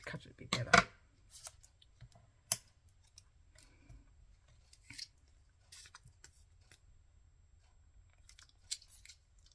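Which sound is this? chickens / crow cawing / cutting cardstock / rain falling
cutting cardstock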